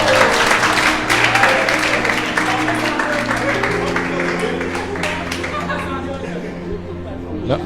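Audience applause at a gathering, dense steady clapping mixed with crowd chatter and speaking voices, fading slightly toward the end.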